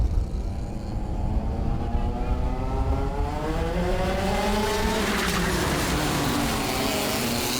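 Go-karts racing round a circuit in the Port Moresby kart championship, several buzzing engines overlapping with rising and falling pitch as they pass, loud and steady, with a voice talking underneath.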